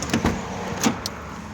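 A used car's door lock clicks open as a key turns in it, giving a few short mechanical clunks and knocks close by with a brief whir, then quiet.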